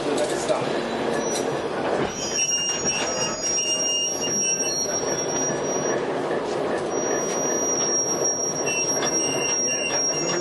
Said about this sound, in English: We're taking pictures of our train before we go on to the next stop.